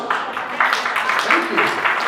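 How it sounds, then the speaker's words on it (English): Audience applause in a hall at a spring fashion show, steady dense clapping throughout the short stretch with faint voices mixed in. "Clap for the mothers."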